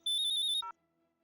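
A short electronic phone ringtone trills rapidly for about half a second, then a single lower beep, followed by quiet.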